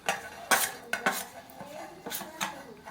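A spoon stirs spices into a yogurt marinade for chicken tikka, with repeated metallic clinks and scrapes against the bowl in an irregular rhythm, close and clear with no talking.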